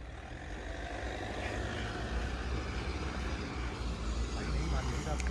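A Mahindra Scorpio SUV in 4x2 mode pulls hard across farm fields in a drag race, giving a dense, steady engine roar with heavy rumble and road noise from close range.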